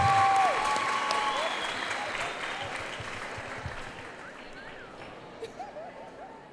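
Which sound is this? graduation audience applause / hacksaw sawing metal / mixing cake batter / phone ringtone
graduation audience applause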